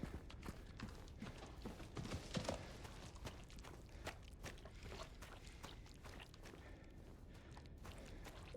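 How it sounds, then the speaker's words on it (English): Horse hooves clip-clop through the Silent Hill 2 Remake's eerie outdoor ambience, a loose run of soft, uneven knocks that continues steadily under a dull background bed, without voices. "Horse noises."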